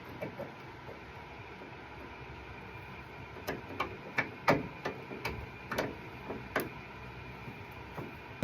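A hammer taps a hinge pin into the door hinge of a 1970 Barracuda, a series of about a dozen sharp metallic strikes in uneven rhythm, close and clear over a quiet garage hum.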